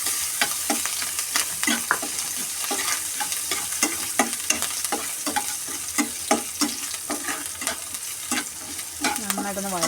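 Crushed garlic and ginger sautéing in a pan for chicken curry, a steady sizzle under a brisk train of spatula taps and scrapes at close range, no speech.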